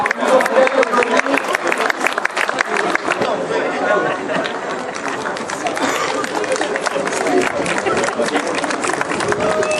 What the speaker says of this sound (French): je vous demande de vous applaudir bien fort